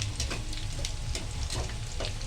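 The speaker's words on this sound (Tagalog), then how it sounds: "gisa muna natin itong bawang" Garlic sautéing in rendered pork fat for pork adobo crackles and sizzles continuously, close and fairly loud, with irregular spattering pops and occasional stirring scrapes.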